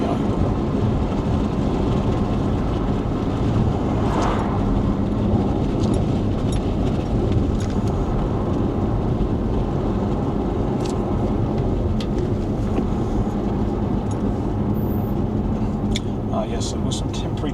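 Wind rushing through a partly open train window between Ipswich and Ardleigh, a constant loud broadband roar mixed with rail running noise, steady throughout with faint brief knocks.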